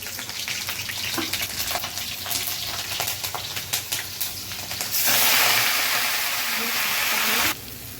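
Greens frying in hot oil with chilli and black cumin, a steady close sizzle that swells into a loud, bright hiss midway as the leaves hit the oil, then drops back.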